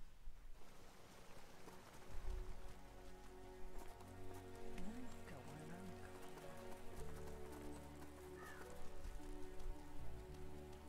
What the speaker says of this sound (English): It's snowing today, not just raining.